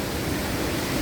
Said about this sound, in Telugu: సీక్రెట్ వాటర్ ఫాల్స్ అనమాట.